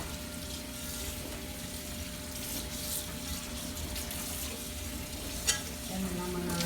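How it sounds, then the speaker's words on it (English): Running tap water splashes steadily over the outside of a dirty pan being washed by hand in a kitchen sink, a soft continuous rush with one brief clink near the end. "So then I'm going to rinse the outside first."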